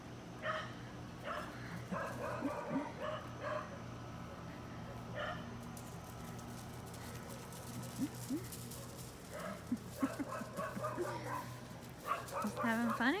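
Eight-week-old puppies yipping and whimpering alongside a bigger dog's barks indoors, scattered short yaps and whines over a low background hum, with a person talking softly between them.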